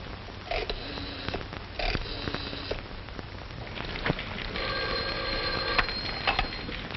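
A telephone rings in an office in a 1944 mystery thriller film: three separate bursts of bell ringing, moderately faint, with no one speaking.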